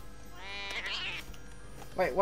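Cartoon cats in The LEGO Movie 2 Videogame let out a couple of clear, fairly close meows, one rising and drawn out and another short yowl at the end, over quiet game background sound.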